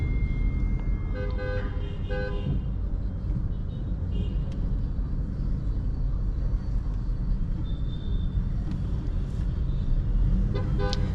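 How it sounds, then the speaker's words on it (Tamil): Dense city traffic surrounds a 2024 Honda Amaze facelift on the road, with a constant engine and road rumble and several short car horn toots early on, one more later. "செம்ம டிராஃபிக்காக இருக்குதுங்க."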